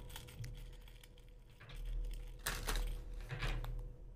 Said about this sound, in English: I'm sure you guys can hear my shuffling there